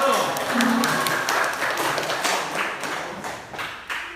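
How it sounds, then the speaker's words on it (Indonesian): A classroom audience claps for the first student group after their presentation in an Islamic religious education lesson, a dense, sustained patter of many hands in a reverberant room that tapers toward the end, with voices mixed in. "berikan aplaus dulu kelompok 1"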